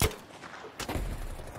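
Bursts of rapid machine gun fire crackle in Battlefield 5 on the Wake Island map, with a sharp blast partway through, loud and close amid game noise.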